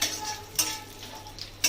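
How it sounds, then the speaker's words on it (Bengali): Nuts stirred and lightly fried in oil with cardamom in a pan, a soft steady sizzle broken by a few sharp scrapes and clinks of the spoon against the metal. "বাদামগুলোকে দিয়ে দেবো এবারে।"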